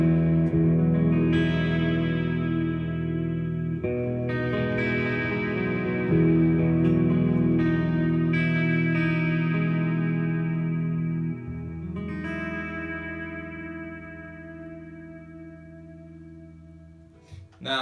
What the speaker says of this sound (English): I can add oscillation to that if I want it to sound a bit bigger.